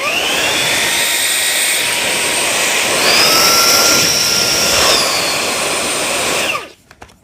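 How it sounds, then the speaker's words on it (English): A Fanttik Slim V10 Mix cordless vacuum runs in blower mode, a loud steady high-pitched whine and rush of air that rises in pitch midway, then cuts off abruptly near the end. "Now I've got a really powerful blower."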